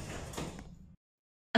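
Sliding doors on a Moscow metro train between Kuzminki and Vykhino rumble shut. A short silence follows, then a loud abrupt burst of sound.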